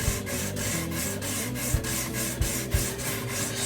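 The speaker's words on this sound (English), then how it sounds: "use the pink eraser with this" A pink eraser rubbing back and forth across a DIY wooden bass guitar body, making a steady, close scrubbing rasp in regular strokes, with a few soft knocks mixed in.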